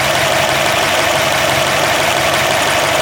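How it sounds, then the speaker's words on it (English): A Ford Y-block V8 in an F100 pickup runs steadily at idle, loud and close, with a constant rough mechanical drone and ticking that never lets up. "It is a noisy engine, these Y blocks."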